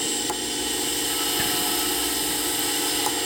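Myford Super 7 lathe taking a light cut on a small steam engine part: a steady close machine hum and whine under a faint continuous cutting hiss, with a few tiny ticks and no talk.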